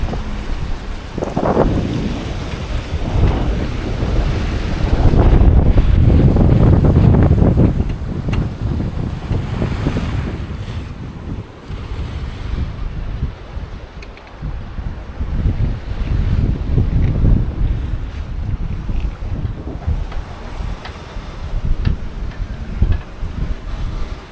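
Wind and waves heard aboard a sailboat under sail at sea in the trade winds, with steady wind rush buffeting the microphone and surging water washing along the hull, swelling louder at times, no voices.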